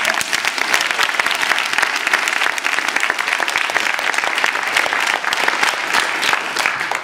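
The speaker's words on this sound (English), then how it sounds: "Let's give our teachers a round of applause." An audience applauds teachers at an education forum in a historic theater, dense sustained clapping from many hands that stays loud and even throughout.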